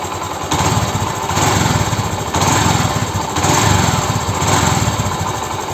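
A Honda Shine 125 BS6 motorcycle engine from 2025, revved repeatedly while standing, loud and close, rising in several surges with steady idle in between and no talk.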